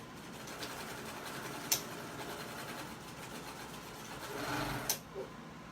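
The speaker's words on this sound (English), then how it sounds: "And then I'm going to sew this down." A sewing machine sews folded fabric down on a pair of shorts, a quiet steady mechanical whir with a couple of sharp clicks and a brief louder swell near the end.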